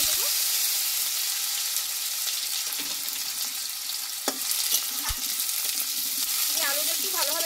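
Cut potatoes fry in oil with bay leaf, cinnamon and panch phoron. A steady close sizzle runs throughout, with occasional clinks and scrapes of stirring and a faint voice near the end.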